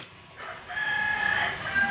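A rooster crows loudly nearby, a drawn-out strained call rising after a quieter start, with faint farmyard background.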